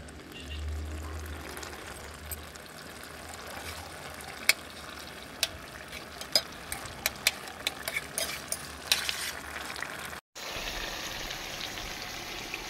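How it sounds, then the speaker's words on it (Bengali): Chicken stir-fried over a high gas flame until the oil separates, for Bengali posto chicken: a steady, close frying sizzle with scattered sharp pops and crackles, then a short break before the sizzle returns. "চিকেনটাকে আমি হাই ফ্লেমে 5 মিনিট ধরে ভালো করে এপিট ওপিট করে কষিয়ে নিয়েছি, খুব সুন্দর করে নাড়াচাড়া করে"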